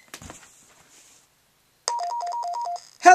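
An elevator emergency phone takes an incoming call: after a brief click and silence, a warbling electronic ring alternates between two tones in a steady pulsing burst, loud and close, ending as the line picks up.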